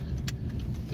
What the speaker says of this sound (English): So, very busy parking lot. I see the car coming.